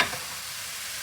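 Ground meat added to a hot pan for Turkish biber dolması, giving a bright, steady sizzle that starts abruptly and continues evenly close up, without talk.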